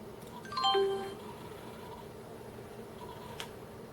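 Packard Bell PB 1700CD computer shutting down, a short rising chime of a few tones near the start, then a steady fan hum and a faint click before it goes quiet.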